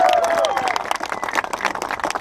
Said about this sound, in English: So give yourselves a big round of applause for actually doing this.